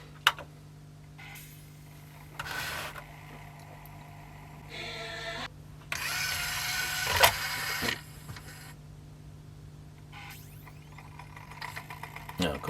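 A 1988 CDC640 CD player's worn disc mechanism whirs and clicks in short bursts over a steady hum as it struggles to read a disc, with sharper clunks near the end.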